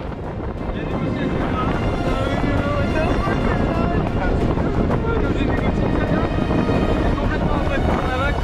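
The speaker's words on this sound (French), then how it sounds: "mais le vent avait monté et la houle aussi." Loud, steady wind roaring across a microphone on a sailboat in rising wind and swell, with rushing water and hull noise underneath, continuous throughout with no pauses.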